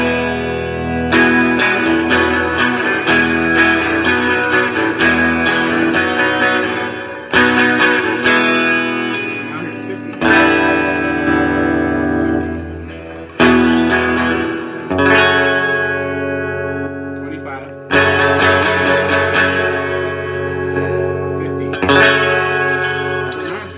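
Clean Rickenbacker 330 electric guitar through a Boss Katana 50 amplifier at 25 watts with a touch of reverb, strummed chords and picked notes ringing out in phrases with short pauses between.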